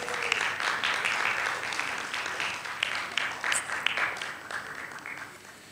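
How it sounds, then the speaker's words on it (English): Audience applause at a conference, a crowd clapping steadily in a hall for several seconds before tapering off toward the end. "please give a round of applause to our great speakers"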